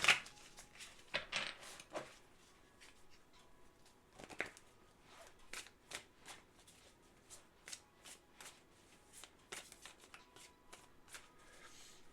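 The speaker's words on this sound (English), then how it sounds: "Cat deck shuffle." A cat-themed tarot deck being shuffled by hand, with soft riffling bursts and crisp card slaps repeating in quick irregular runs, close and fairly quiet, no voices.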